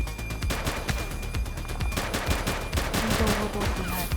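Heavy gunfire in the police video game The Precinct, with rapid automatic bursts and single shots crowding together in a loud, continuous exchange.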